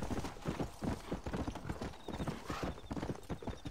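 Steady clip-clop of horse hooves in Red Dead Redemption at a quick trotting rhythm, fairly close, with a few faint sounds beneath and no clear talk.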